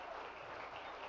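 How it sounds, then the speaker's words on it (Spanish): Audience applause at a science talk on mangroves, a dense, steady wash of many hands clapping together through the whole short stretch, fairly faint and with no voices over it. "Un aplauso para ellos, por favor."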